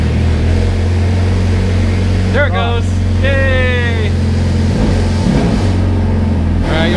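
A Ferrari F430 with a freshly completed manual gearbox conversion idles with a steady low engine drone under people's talk, and the engine note swells briefly as it is revved.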